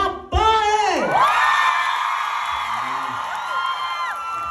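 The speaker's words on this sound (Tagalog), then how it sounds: "palakpak at sumigaw lahat ng mga babae!" An audience of women cheering and whooping at a hosted party event, a loud rising shout followed by sustained high-pitched yells and cheers over a noisy crowd.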